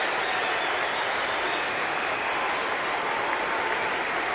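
A big cricket crowd applauding Brian Lara's fifty in a West Indies versus Pakistan one-day international, sustained loud clapping that stays steady and dense throughout, with no voice on top.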